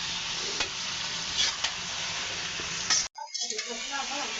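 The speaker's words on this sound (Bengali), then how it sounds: "এই যে মুরগিটা যে ভাজতেছি সেটা হচ্ছে টমেটোটাও ভেজে নেব" Chicken and tomato frying with spices in a pan, a close, steady sizzle with stirring scrapes that cuts out abruptly near the end before quieter sizzling resumes.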